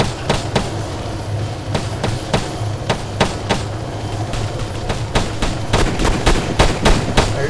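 Gunfire in the military video game ARMA 3 cracks out as sharp shots, some single and some in quick bursts, steadily across the clip over a low engine-like rumble.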